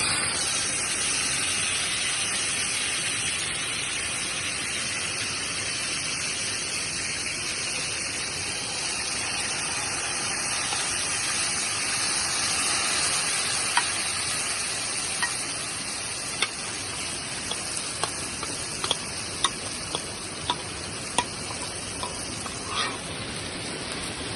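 Chicken tikka boti pieces hiss and sizzle as they drop into hot oil in a handi over outdoor coals, a loud steady frying roar with sharp crackles and pops growing more frequent toward the end.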